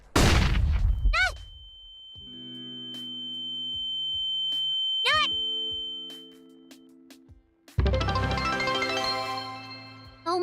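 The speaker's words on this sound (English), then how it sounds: "flashbang." A flashbang grenade goes off in the VRChat video game: a sharp loud bang and ringing chirps, then a long sustained high ringing tone with layered hums, ending in a second harsh burst of noise.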